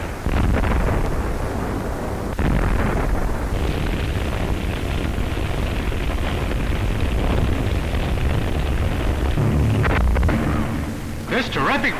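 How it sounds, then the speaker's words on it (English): Artillery bombardment in 1932 Shanghai, heard on an old newsreel soundtrack, gives continuous loud, rumbling blasts and crackling booms over wind-like hiss, with a narrator's voice partly running underneath. "This terrific bombardment continued for days"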